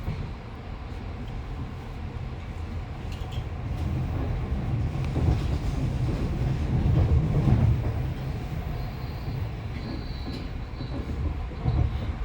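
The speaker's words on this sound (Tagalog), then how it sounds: "Another train" A train rolls past near St. Johann, Austria, its broad rumble swelling to a peak mid-pass and then easing off, with steady rail clatter and no talking.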